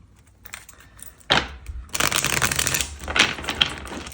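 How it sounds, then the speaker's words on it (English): Cards being shuffled in quick riffling bursts, close up, with a brief pause between two rounds of crisp fluttering. "So I'm just going to shuffle each half of this deck."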